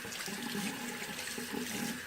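Lukewarm tap water runs steadily from a faucet to rinse a watercolor brush, a continuous close splashing hiss with no pauses or speech.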